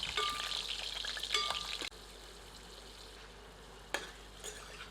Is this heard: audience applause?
no